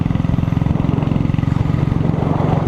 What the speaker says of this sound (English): And I tell you, the exhaust is so beautiful.